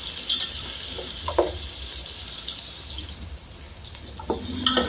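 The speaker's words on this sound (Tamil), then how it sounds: "இப்போ இந்த ஆனியனை போட்டு நல்லா வதக்கிக்கலாங்க." Sliced onions sauté in hot oil for vegetable biryani, a soft steady sizzle with occasional stirring clinks and scrapes, faint and close.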